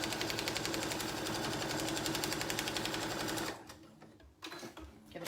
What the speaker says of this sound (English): I'm gonna stitch that down.